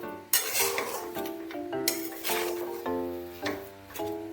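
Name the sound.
stirring jaggery with coconut in a pan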